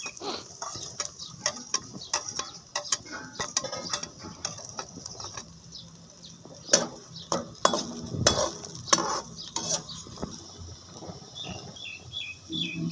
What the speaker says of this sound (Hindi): बर्तन में थोड़ा घी डालेंगे और इसके अंदर चॉपर्ड प्याज डाल देंगे पहले।